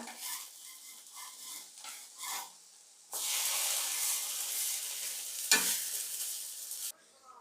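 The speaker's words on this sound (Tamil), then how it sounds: "நல்லா மசாலா அந்த ஃப்ரை ஆகிற வரைக்கும் நல்லா டோஸ்ட் பண்ணுங்கள்" Bread coated in masala toasting in a pan, a steady broadband sizzle that swells loudly partway through with brief stirring scrapes, one sharp clink of the spatula, then cutting off near the end.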